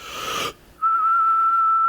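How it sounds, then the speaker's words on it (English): A man whistles through a hole in his cheek while holding his breath: a short breathy puff, a brief pause, then a single steady, clear, slightly wavering whistled tone held for about a second, loud and close. "Actually, I can whistle by just holding my breath."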